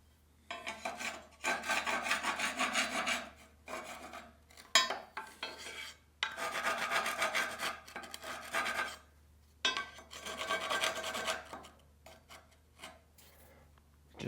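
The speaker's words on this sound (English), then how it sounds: "Just like that, we scratch it" Scratching a cut line onto the steel frame of a 2002 GMC Sierra pickup during a drop job, heard as repeated raspy scraping strokes in several bursts separated by short pauses, close and fairly loud.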